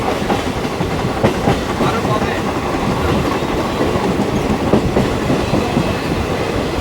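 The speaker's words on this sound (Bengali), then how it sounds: "এই হচ্ছে এক্সপ্রেস ট্রেন" An express train runs through Barrackpore station near Kolkata, a loud, steady rumble with continuous clickety-clack of wheels on rails throughout, with no talking.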